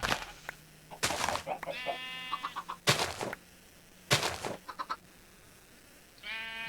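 Minecraft chickens clucking in short bursts of harmonic chirps, scattered across the scene with gaps of quiet between them, with no talking.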